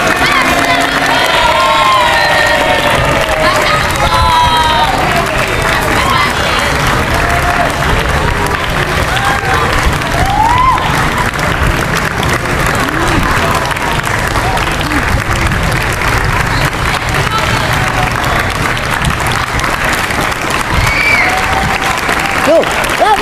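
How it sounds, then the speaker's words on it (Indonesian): Sustained applause from a school audience of pupils fills the room, steady and loud throughout, with scattered children's shouts and cheers mixed in over the clapping. "Tepuk tangannya."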